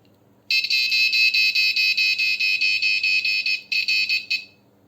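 An Arduino buzzer module sounds a shrill electronic alarm tone in rapid, even pulses for about four seconds, with a brief break near the end before it stops. It is loud and close, with no talking.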